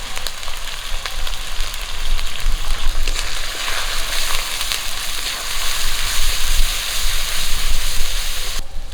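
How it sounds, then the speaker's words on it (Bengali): Spices with turmeric, salt and chili powder fry loudly in a pan after a splash of water, producing a dense, continuous sizzle and hiss that holds steady throughout, close up and without speech. "মশলাটাকে কষে নেওয়ার জন্য একটুখানি জল দিয়ে দিচ্ছি"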